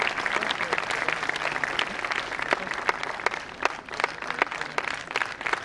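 Audience applause at a university pharmacy conference valedictory prize ceremony, steady dense clapping from a crowd sustained throughout, moderately loud and even with no talk over it.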